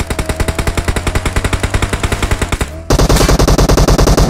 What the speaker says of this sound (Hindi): फटाफट पड़े जा रही गोली